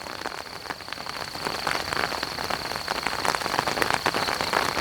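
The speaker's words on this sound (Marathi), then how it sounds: "आता पाऊस पण आला, त्यामुळे त्याला आता भिजायला होणार आहे." Steady rain falls on the Konkan coast during crab hunting, a close, even patter of drops on surfaces that grows slightly louder over several seconds, with no voices.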